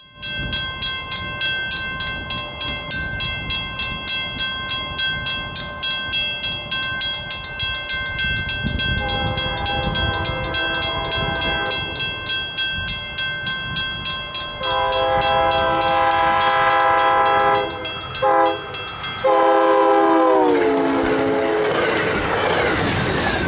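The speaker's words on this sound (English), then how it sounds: "At 9:13 comes Connecticut Rail 4404, with former Amtrak 840 for power." Connecticut Rail train 4404, powered by former Amtrak P40 locomotive 840, rumbles past with a steady roar and clatter, then sounds several long, loud horn blasts near the end.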